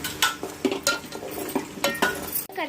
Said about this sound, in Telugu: ఇప్పుడు ఆనియన్ పేస్ట్ చేసుకున్నాం కదండి, అది బాగా ఫ్రై అయ్యేంత వరకు, కలర్ వచ్చేంత వరకు మనం ఫ్రై చేయాలి